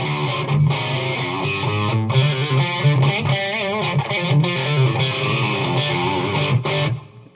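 An electric guitar with Fishman Fluence Devin Townsend signature pickups plays a bright, twangy, hollow-sounding riff with a quacky tone, slightly distorted, ending abruptly.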